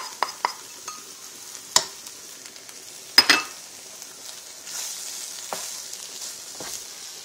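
A spoon scrapes and stirs through a sizzling pot of Lao chicken curry as paprika peppers and spices are mixed in, with a few sharp clinks against the pot over a soft, continuous fry.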